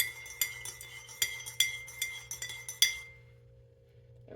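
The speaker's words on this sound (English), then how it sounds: "And so, stir," A spoon stirs coffee in a mug, giving about nine bright, quick clinks over three seconds against a low steady hum. The clinking then stops and the room goes quiet.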